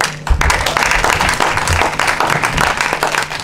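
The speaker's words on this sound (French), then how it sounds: "J'aimerais que toutes les femmes acclament tous les hommes." Audience applause at a religious wedding, dense steady clapping filling the hall from start to finish, loud and close.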